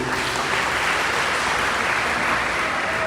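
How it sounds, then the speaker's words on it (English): A school audience gives a round of applause, dense and loud clapping from many people that stays continuous and close for the whole stretch. "Everybody give her a round of applause."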